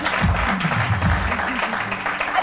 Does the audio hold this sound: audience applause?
yes